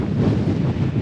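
Strong wind roars across a Scottish mountain summit, a loud continuous buffeting rush that batters the microphone with no voices.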